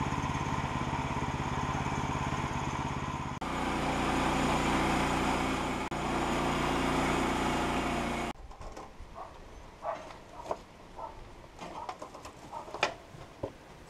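Sawmill engine roars loud and steady while the blade cuts through a log, then cuts out abruptly after about eight seconds, leaving quiet scattered clicks and knocks from the shed.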